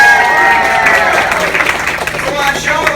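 Spectators at an alligator wrestling show in the Florida Everglades clap and cheer, a loud close crowd burst with whoops and scattered applause, and voices mingled in.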